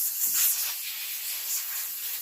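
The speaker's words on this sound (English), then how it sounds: "I just got my airbrush and I got some air blowing out of it." Compressed air blows steadily out of an airbrush, a close, continuous soft hiss with slight swells and no other sounds.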